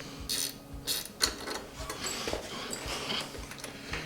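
Mechanical ratcheting and clicking from tightening the wheel adjuster fasteners on a dirt bike tire, a close, busy stretch of repeated metallic clicks and scrapes with no speech.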